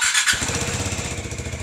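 A Bajaj Dominar motorcycle engine runs steadily on an external fuel pump, a close, even idle with a rapid low pulsing beat after a brief higher-pitched squeal at the start.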